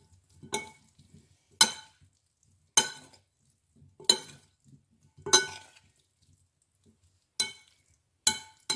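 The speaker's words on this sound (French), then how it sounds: "alors j'arrose ma salade et je vais la mélanger" A salad dressed and tossed in a bowl gives about eight separate scraping, clinking stirs at an uneven rhythm, close by, with quiet gaps between them.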